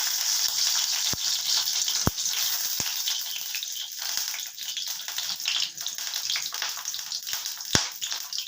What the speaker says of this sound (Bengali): কড়াতে দিয়ে দিচ্ছি কয়েক কোয়া রসুন। এবার দিয়ে দিচ্ছি সরষের তেল।